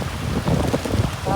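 Dense, roaring wash of heavy rain and gusting wind from a typhoon buffeting the microphone, steady and loud throughout with no clear voices.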